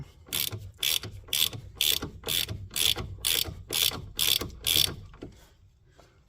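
A ratchet wrench with a 16 mm socket working on a Renault Clio 2 steering ball joint, giving about ten close, crisp clicking bursts in a steady back-and-forth rhythm, then stopping, with no talk.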